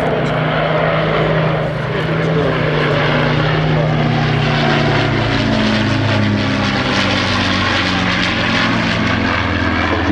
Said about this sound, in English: Running in front of us to start its solo display, Spitfire PR19 PM631.